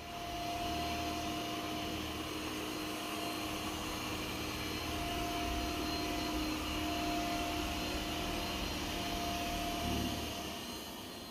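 A robot vacuum cleaner, a Yeedi Vac Station or iRobot Roomba i4 Plus, runs with a continuous whirring drone and faint tonal whine, steady and close for the whole stretch with no voices.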